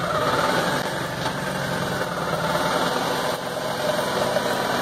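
A gas motorcycle engine runs steadily at close range as the rider shifts up to third gear, giving a loud, continuous mechanical drone with faint vibration throughout.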